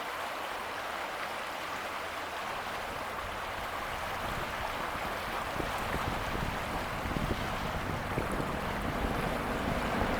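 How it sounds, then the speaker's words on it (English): Steady rushing water in a creek fills the whole stretch, a continuous broadband wash with some wind buffeting, no voices. "The sound of the rushing water is so calming."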